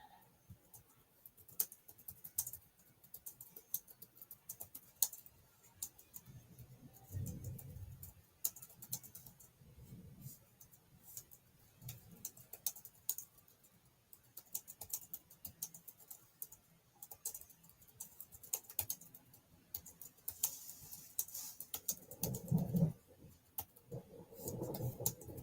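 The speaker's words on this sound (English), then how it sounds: "I'm typing all out." Quiet, steady clicking of computer keyboard typing that runs throughout with an uneven rhythm, close but faint, with a few soft low thumps in between.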